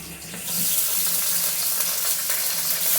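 Chopped garlic and green chilies hit a pan of onions that have browned, setting off a loud, continuous frying sizzle that swells slightly after the first moment.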